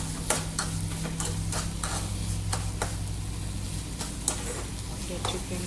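Sugar is stirred into sweet turmeric sheera in a pan over the stove, a rhythmic series of spoon scrapes and taps over a soft sizzle and a low steady hum.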